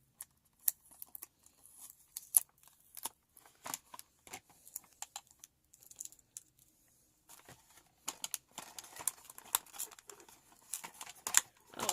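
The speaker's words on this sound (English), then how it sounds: "Let me get the tape off." Tape being cut and peeled off toy packaging at close range: sparse snips and crisp tearing clicks, then denser crinkling and ripping bursts toward the end, with no talking.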